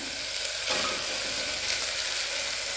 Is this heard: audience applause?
no